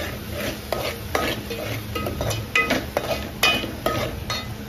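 A spoon scrapes and stirs masala with turmeric in a pan, a steady close scraping with sharp clinks and knocks against the metal over a low sizzle, with no voices.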